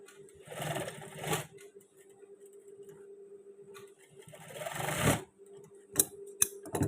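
Sewing machine stitching a pair of long trousers, running in several short bursts with brief pauses between them, fairly close and moderately loud, with no talk over it.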